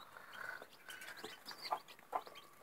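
A broody hen clucks softly among her new chicks in a small farmyard brood, with a few faint high peeps scattered through low, close murmuring.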